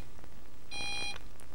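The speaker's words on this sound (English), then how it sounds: "Wait till you hear three beeps and open the drawer." A 1997 Fisher & Paykel DishDrawer gives a clear electronic beep after its Start Pause button is pressed, one short tone sounding over faint background hiss.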